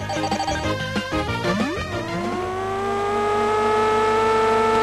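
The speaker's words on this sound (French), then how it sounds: "Cette super course de Formule 1 réalisée par Domark n'est autre que l'adaptation sur Mega Drive de l'excellent Vroom" Formula 1 race car engine from the Domark Mega Drive video game F1, with chiptune-style notes and tones jumping about before a sustained, steady synthesized engine whine settles in, loud and alone.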